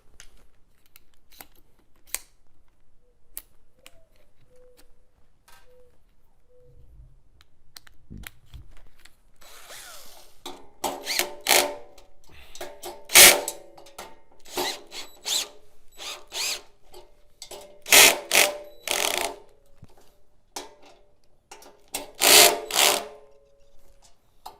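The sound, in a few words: power drill driving screws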